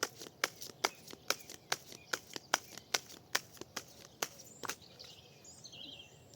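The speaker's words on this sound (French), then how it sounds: "je vais avoir un peu de mal à les mélanger parce que c'est des cartes pour main de géante" Large oracle cards being shuffled by hand, a steady run of crisp riffling snaps about two per second, close and fairly quiet, trailing off near the end.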